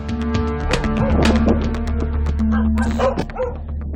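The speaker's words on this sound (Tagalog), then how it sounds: "Butot balat na nga nagsisiksikan pa ang mga aso sa kulungan." Loud, close barking and yipping from many dogs crammed into a crowded dog pound in Medellin, Cebu, with overlapping barks, some whimpers and no break in the noise.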